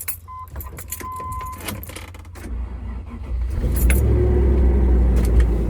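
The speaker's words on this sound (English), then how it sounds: "And let's see if this Rover starts." Keys jangle and clink for a couple of seconds, then an old Land Rover engine cranks and catches, settling into a loud, rumbling idle close by.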